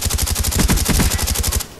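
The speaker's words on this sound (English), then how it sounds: "I just shot him out of existence" Rapid automatic gunfire in Call of Duty Black Ops, a loud, steady burst of evenly spaced shots lasting under two seconds before cutting off abruptly.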